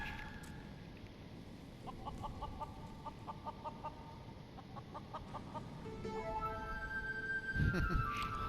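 Chickens clucking in Final Fantasy XIV, a series of short rhythmic clucks repeating over quiet background game audio, with a brief louder burst near the end.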